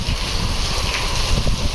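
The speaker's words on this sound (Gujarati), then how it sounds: "જો આવો પવન છે." Strong wind during a rainstorm buffets the microphone in low, uneven rumbling gusts over a steady rushing hiss.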